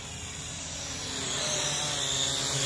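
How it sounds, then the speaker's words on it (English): A drone flying over the desert near Palm Springs, California, on a windless day makes a steady whining buzz of spinning rotors that swells gradually louder as it approaches. "There's no wind today, so the drones are really stable when they fly."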